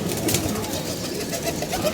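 Male pigeons crowd into a loft with the hens, and close, continuous cooing and soft throaty calls fill the space.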